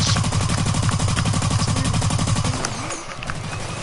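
Rapid automatic gunfire from the video game Blacklight rattles in a dense, loud, continuous burst, then tapers into scattered game effects.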